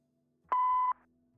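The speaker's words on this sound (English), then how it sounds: "Please leave a message after the beep." Single electronic voicemail beep in the video game Kathy Rain 2, a clean steady tone lasting about half a second, then near silence with faint room tone.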